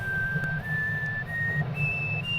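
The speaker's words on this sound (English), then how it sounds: "Kel whistling in elevator." A character in the video game Omori whistles a steady, simple tune of long held notes while riding in an elevator, over a low background hum.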